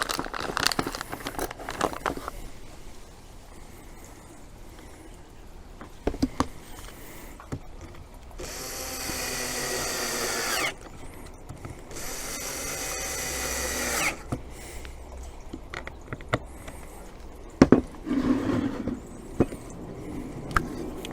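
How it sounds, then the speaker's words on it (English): A power drill pre-drills holes for wardrobe hinges in two short whirring bursts, set among scattered knocks and handling clatter in a quiet workshop with no talking. "Pre-drill those holes, and then you're ready for fitting the hinge."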